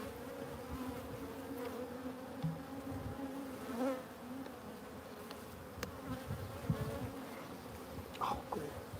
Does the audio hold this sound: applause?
no